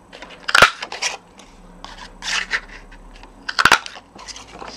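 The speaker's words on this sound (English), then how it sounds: "This is a 3/4 inch circle punch." A 3/4 inch circle paper punch crunches through card stock in three short, sharp clusters of snapping, crinkling clicks separated by brief pauses, close and fairly loud.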